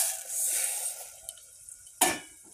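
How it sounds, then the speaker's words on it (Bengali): Moong dal lentils tipped into spice masala already fried in a pot: a soft sizzling hiss fades over the first second and a half, then a few light clinks and a sharp scrape of utensil on metal near the end. "এবারে ডালটা দিয়ে দেব।"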